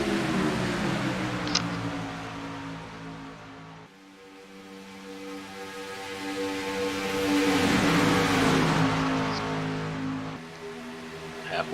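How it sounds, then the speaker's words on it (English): Chevy SS race cars of a senior racing league lap Daytona International Speedway, their engines a steady droning roar that fades and swells as the cars pass, heard at a distance with faint commentary beneath. "And that's Roy Wynn, and that 14 Chevy SS is taking over the lead with Ivan Shop in second, Keith Chestnut thi"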